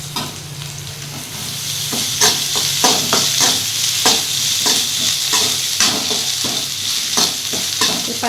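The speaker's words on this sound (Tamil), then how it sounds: "வெங்காயம் வதங்கினதும் இஞ்சி பூண்டு பேஸ்ட்டு சேர்த்துக்கலாம்." Sliced onions with ginger garlic paste sizzle loudly in a hot pan as a spoon stirs them, steady frying hiss punctuated by regular scraping clacks, close and continuous without speech.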